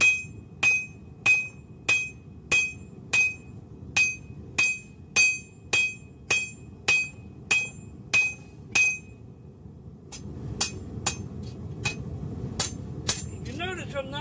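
Hammer striking hot metal scroll piece for a rustic oak end table, about fourteen sharp, evenly spaced ringing blows up close, followed by a few more scattered strikes over a low background rumble.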